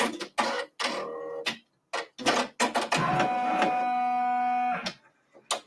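Multi-needle embroidery machine stitching the top of a Christmas chart, with bursts of rapid mechanical stitching and a sustained whirring run that holds a steady hum, separated by short pauses.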